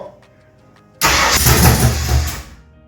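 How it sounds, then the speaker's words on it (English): A Ford 351 V8, newly swapped in place of a Ford 200 six, cranks and fires for the first time, jumping from near silence into a loud, rough roar that holds for about a second and a half before easing off. "About ready to get it fired up in the car, at least running for the first time"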